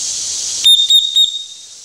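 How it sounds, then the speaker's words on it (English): An emergency whistle from a camping canteen kit gives three short, shrill blasts close by, each one sharp and high, after a steady background hiss. "The whistle hurt my ear."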